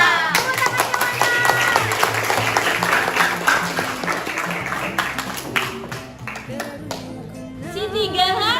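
Classroom students break into loud, dense clapping that fades out as voices rise over it.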